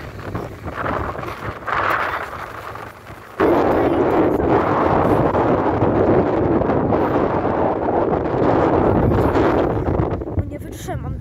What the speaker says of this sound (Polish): No nie wytrzymam taki wiatr.